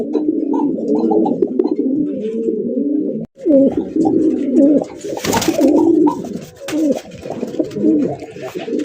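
A pair of white Danish pigeons coo close by in repeated low, throaty phrases, with a brief rustle of flapping partway through and faint background noise.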